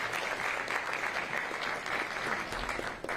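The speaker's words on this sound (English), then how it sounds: "round of applause for Fred" Applause from an audience at an official Super Bowl halftime show presentation, a dense, steady wash of clapping that carries through the whole short stretch at moderate loudness without pause.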